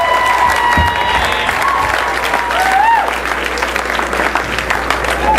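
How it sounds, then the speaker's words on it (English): Loud, dense applause from a large audience at a UCLA dance marathon event, sustained clapping with some cheering and voices mixed in. "I want everyone to give them a big round of applause"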